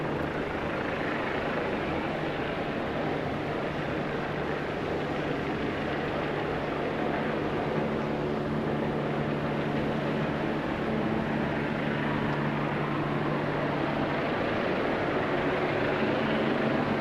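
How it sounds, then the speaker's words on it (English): A helicopter passes over London near Cleopatra's Needle on the Embankment, giving a constant broad engine and rotor drone mixed with city rumble, even in level throughout. "there's the helicopter with the obelisk in shot"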